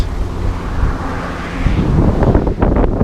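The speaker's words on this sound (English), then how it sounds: "Super windy ride on the little train bus thing." Strong wind buffets the microphone in a continuous low roar on an open little train-style bus ride in Varadero, with gusts swelling louder toward the end.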